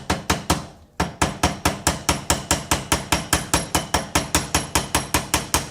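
A nylon-faced hammer taps a night sight on a Glock 19 slide, striking in a steady, close, fairly loud run of about twenty evenly spaced blows after a brief pause near the start.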